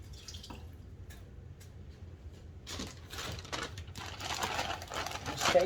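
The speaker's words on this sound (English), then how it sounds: "Let me rinse my hand off." A hand is rinsed under running water in a home kitchen while pork chops are prepared, the flow splashing and dripping close by, growing louder toward the end.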